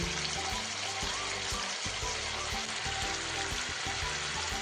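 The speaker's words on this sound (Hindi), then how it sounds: "चिकन को हम ज़्यादा फ्राई नहीं करेंगे, मीडियम फ्राई करेंगे।" Chicken pieces medium-frying in a pan for Kashmiri chicken kanti, a loud, dense, continuous sizzle with faint stirring scrapes, close up and without talk.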